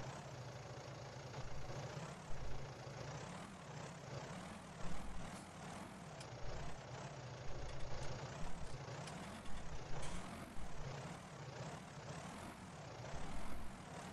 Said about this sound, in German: ich darf jetzt mal wieder ein bisschen Drehschemel rückwärts fahren